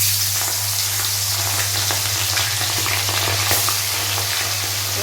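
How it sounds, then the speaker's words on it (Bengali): Pomfret fish frying in oil in a wok, giving a steady, close, continuous sizzle with small crackles throughout and a low hum underneath. "এভাবে মাছগুলোকে ভেজে নেব।"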